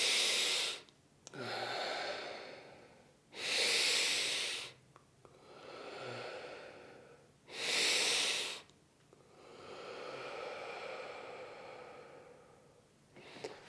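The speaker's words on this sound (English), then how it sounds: "So just taking in a nice deep long breath." A person breathes slowly and deeply, drawing long breaths in through the nose and letting them out through the mouth, with several clear inhale-exhale cycles heard up close in quiet surroundings.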